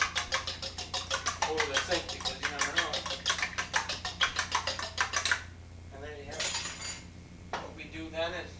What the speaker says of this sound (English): Give it another couple turns with the fork over the sink